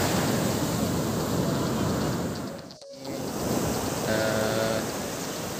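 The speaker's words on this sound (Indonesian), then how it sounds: "Ini ombak cukup besar di pantainya." Large ocean waves rolling and breaking on Sunur Beach in Pariaman on a windy morning, a loud continuous surf roar with a brief dip as one wave recedes, with no talking.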